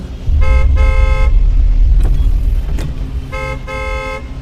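Two long steady car horn blasts, loud and close, separated by a pause, over a low rumbling background of traffic or engine noise.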